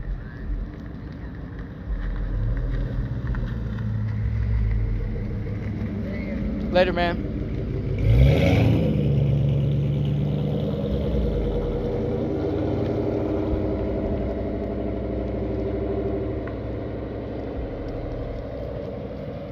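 A loud engine rumbles steadily throughout, with a voice talking over it and a brief bump in level midway.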